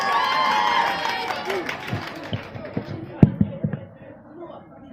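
Crowd noise from a Losar party in India starts as a dense, loud cheer, then fades into scattered, sharp claps and thumps, with voices mixed in.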